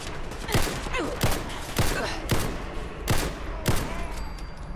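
Submachine gun fire in a modded Fallout 4, five loud, sharp shots or short bursts spaced evenly about half a second apart, close and alone with no talking.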